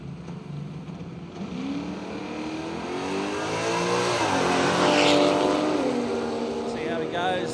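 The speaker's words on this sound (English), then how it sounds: "Mark Reek in the beautiful 53 Holden FX Ute, turbocharged 6-cylinder. This is old school gear, so, and sounds amazing." A turbocharged six-cylinder 1953 Holden FX Ute on a drag racing run roars with a rising, revving engine note that builds loud and close. A commentator's voice runs underneath.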